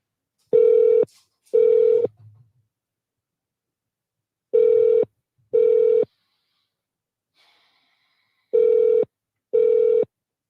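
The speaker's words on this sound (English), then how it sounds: "So let's try them now to see if anyone is actually going to answer the phone." Telephone ringback tones calling a government office: three pairs of short, loud double rings with long silent gaps between them, no voices.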